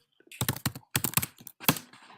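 Rapid typing on a computer keyboard, close and crisp, in clusters of sharp key clicks separated by short pauses, with no speech over it.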